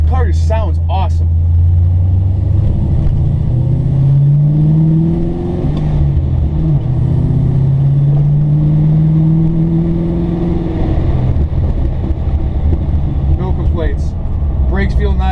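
Engine of a 1965 Chevrolet Chevelle with a Tremec 5-speed, a loud, steady low rumble with rising and falling revs as the car drives, heard close from inside, with a voice talking briefly.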